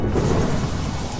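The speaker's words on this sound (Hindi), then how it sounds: "सिर्फ बारिश की आवाज आ रही है।" Steady rain pours down outside a small hut, a dense continuous hiss with a low rumbling undertone, close and unbroken, with no voices.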